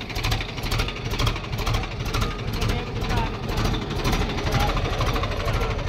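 Swaraj tractor engine labouring up a steep climb in third low gear, a steady loud diesel chug with rapid rhythmic knocking pulses throughout, close by.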